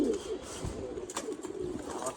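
Soft, low cooing of a male pigeon close by, a brief murmuring call over faint background noise.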